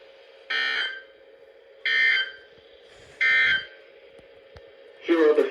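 An EAS emergency alert tone sounds three times in short, evenly spaced blasts of harsh, loud two-tone buzzing, followed by a brief burst of another sound at the end.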